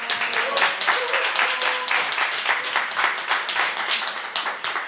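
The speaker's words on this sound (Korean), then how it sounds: "기본소득당 상임대표 맡고 계신 용해 의원님을 큰 박수로 맞이해 주시기 바랍니다" An audience at a political lecture welcomes a speaker with loud, continuous clapping from many people, close and steady throughout, with faint voices mixed in beneath it.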